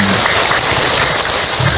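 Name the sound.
audience applause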